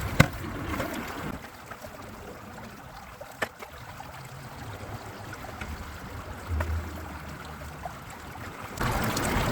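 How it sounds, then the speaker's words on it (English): Water washes clay-rich gravel and scraped decomposing bedrock material through a simple gold sluice, a steady close rushing and gurgling flow with occasional small knocks and splashes. "So I'm going to run this through my simple sluice."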